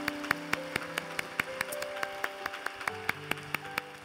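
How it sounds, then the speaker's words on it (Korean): A congregation at a Korean church worship service claps in a quick, even rhythm for about four seconds, over sustained musical tones in the background. "우리 하나님께 감사와 영광의 박수 드리겠습니다"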